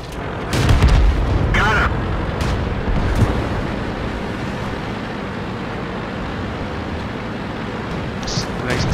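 A tank cannon firing in a tank video game gives one heavy boom that rolls into a long, low rumble, followed by a short crack, with game noise and a voice talking beneath.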